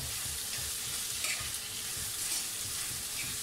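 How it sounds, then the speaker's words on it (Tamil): Marinated vegetables with salt and sambar powder sauté in a pan for a traditional vegetarian South Indian lunch, giving a steady close sizzle broken by regular scrapes and stirs, with no voices. "சேர்த்து நல்லா வதக்கிக்கோங்க"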